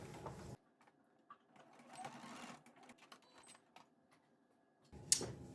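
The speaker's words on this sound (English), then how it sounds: "I'm going to pick up here and I'm going to go back over that stitch." A sewing machine runs quietly in short intermittent bursts, stitching back over a seam on a scrap-pieced pillow cover, with louder handling noises at the start and end.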